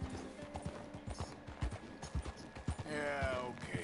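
Horse hooves galloping in the video game Red Dead Redemption beat out a quick, regular clip-clop, moderately close, with a brief vocal sound near the end.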